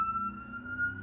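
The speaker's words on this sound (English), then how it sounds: "Siren outside." Emergency vehicle siren sounding outside, a steady held tone heard faintly from a distance, alone with no talking.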